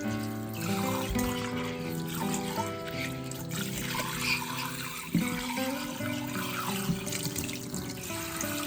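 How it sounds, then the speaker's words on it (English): Warm water runs steadily over a stone mortar and pestle at a sink, a continuous trickle and splash with a faint hum underneath and a brief knock midway. "Start by washing the mortar and pestle with warm water and some mild dish soap."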